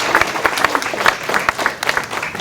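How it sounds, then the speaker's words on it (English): Audience applause for volunteers at a lake and wildlife community meeting, a steady patter of claps from a modest indoor crowd with a few sharper individual claps standing out. "So a round of applause for all of our volunteers."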